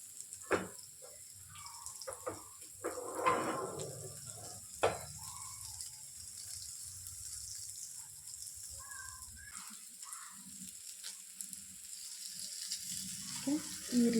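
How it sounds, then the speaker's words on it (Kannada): Paneer pieces frying on a hot tava give a soft, steady sizzle with scattered crackles, broken by a few louder clinks and scraping as the pieces are turned; some faint voice sounds drift in underneath. "ಸ್ವಲ್ಪ ಕ್ರಿಸ್ಪಿ ಆಗೋ ಥರ ಎರಡು ಕಡೆಯಿಂದನೂ ಫ್ರೈ ಮಾಡ್ಕೋಬೇಕು"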